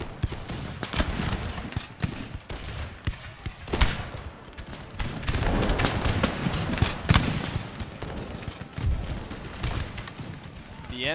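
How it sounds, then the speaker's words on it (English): Musket volleys from line infantry in an Empire Total War battle at the Siege of Philadelphia, scattered sharp cracks and booming shots over a busy battlefield rumble, with a voice talking over the fighting. "The 64th will open fire."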